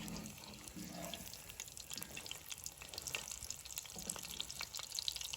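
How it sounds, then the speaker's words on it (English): Food fries in a pan on a camp stove at an off-grid winter desert campsite, giving a soft, steady, low sizzle that carries on quietly throughout. "I think I'm gonna let it fry for a little bit longer and try to separate from the pan"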